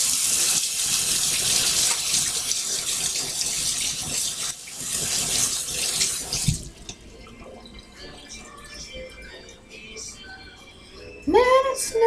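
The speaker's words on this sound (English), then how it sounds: "a spatula that I just put in the sink and I have to wash again" Kitchen sink tap running as a spatula is washed, a loud steady gush of water that cuts off partway, leaving faint drips and handling sounds before a brief voice near the end.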